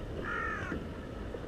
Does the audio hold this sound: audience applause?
no